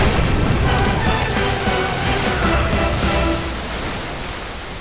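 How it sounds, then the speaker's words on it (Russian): A magic stone blast explosion in a Dungeons & Dragons tabletop role-playing battle makes a loud, broadband rumbling roar that holds for about three seconds, then eases off as it fades. "Каменный взрыв!"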